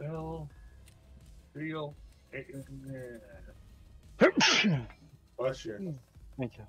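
A person lets out one sharp, loud sneeze in the middle of casual conversation during a gaming session, with voices chatting before and after.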